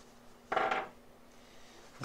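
A small tool face is rubbed around on a sharpening stone, giving a short rasping scrape followed by quiet and the start of a second stroke.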